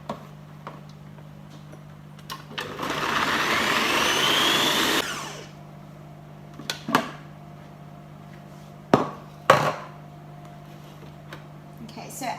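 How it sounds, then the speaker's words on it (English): A food processor pulses cauliflower into a puree, with one loud whirring burst of a couple of seconds. Scattered knocks and clicks of handling follow over a steady low hum. "I'm then going to pulse the cauliflower so it becomes like a puree"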